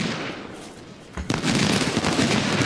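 Musket volleys in Ultimate General: Civil War, a quieter rumble of distant fire that breaks into a sharp crack midway and is followed by louder, sustained crackling gunfire, with no talking.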